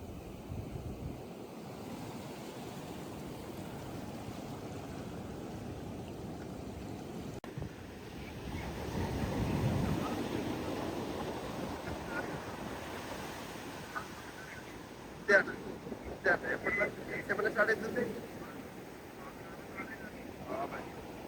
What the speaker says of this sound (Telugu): నిజంగా అలా అలలు వస్తూనే ఉంటాయి,